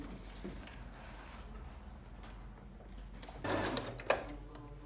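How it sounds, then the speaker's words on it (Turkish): A sewing machine runs steadily while stitching a seam on striped trousers, giving a low mechanical hum with a brief louder whirring burst near the end. "Tekrar düz yüzüne çevirip buradan bu şekilde bir dikiş geçeceğim"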